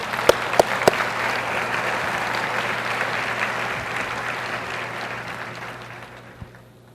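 Congregation applauding in a church service, a full steady round of clapping with a few sharp close claps at the start and a low hum underneath, slowly fading out.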